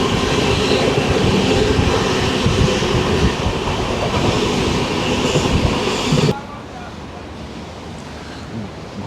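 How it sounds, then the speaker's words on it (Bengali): The 13041 Himgiri Express rolls into Jasidih Junction with a loud, continuous rumble and wheel rattle, which suddenly drops to a much quieter hum near the end. "তো এখন ট্রেন এসে পৌঁছালো জেসিডি জংশনে।"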